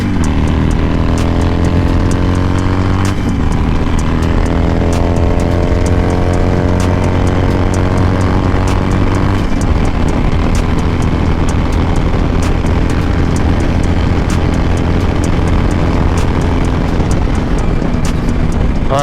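A 2020 Harley-Davidson Iron 883 Sportster at highway speed, its loud engine drone rising in pitch through the gears, with steady wind roar all the way through.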